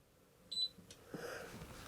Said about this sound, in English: if you press it, you'll hear an audible beep.